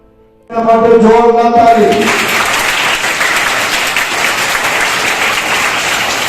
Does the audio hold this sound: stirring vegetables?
no